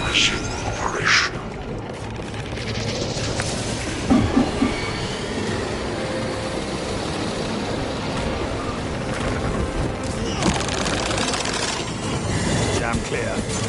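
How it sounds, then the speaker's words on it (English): Jammed crane drive machinery in Warhammer 40000 Space Marine 2 gives a steady, loud industrial rumble with metallic rail-like clatter and squeals, continuous throughout, with brief voice fragments over it. "Crane drive is jammed."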